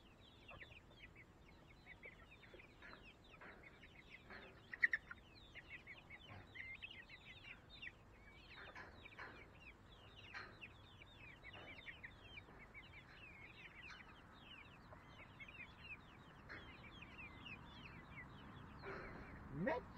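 Chickens cluck and chirp around a large DIY coop, a steady run of short near calls over outdoor background noise, with a louder burst near the middle and people talking at times.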